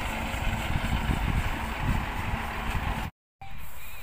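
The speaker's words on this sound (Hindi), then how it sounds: "ट्रैक्टर से चल रहा है पंखा" A tractor-driven winnowing fan runs at a paddy field with a loud, continuous engine drone and broadband whoosh. The sound cuts out abruptly for a moment near the end, then resumes.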